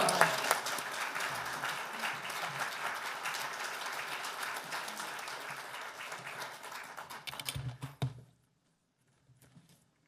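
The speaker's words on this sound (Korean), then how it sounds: "나오실 때 할렐루야로 하나님께 영광 돌리며 박수로 맞이하시겠습니다" Congregation applause welcoming a guest preacher at a Korean men's fellowship prayer meeting in a church, a dense sustained clapping that runs about eight seconds, thins out and stops, followed by near silence with faint sounds.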